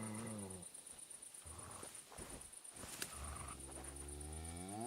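Dog barking in Kingdom Come: Deliverance II, several harmonic barks at the start and again near the end, fairly close, over a steady high-pitched background tone and game ambience.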